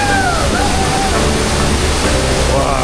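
Large Icelandic waterfall roaring loud and steady throughout, a dense continuous rush of water, with faint voices barely audible beneath the torrent.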